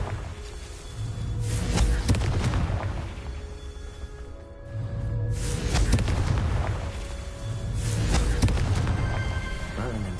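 Booming explosive bursts from the Confringo fire spell in Hogwarts Legacy erupt roughly three times, each a loud blast with a crackling decay, separated by quieter gaps.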